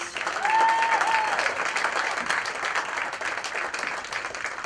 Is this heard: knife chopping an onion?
no